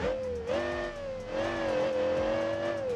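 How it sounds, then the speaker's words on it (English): Engine and exhaust note of a modded car in the driving game BeamNG Drive, a steady droning tone that dips and rises through a few mild revs, with no one speaking over it. "So now let's check the exhaust sound"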